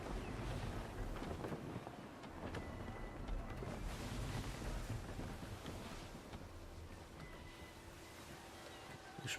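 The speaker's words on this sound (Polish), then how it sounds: "Zaś wichura." Strong gale winds buffet a sailing ship at sea in the video game Assassin's Creed 3, a continuous rushing roar with gusty swells and creaking noise throughout, loud and steady with no clear pauses.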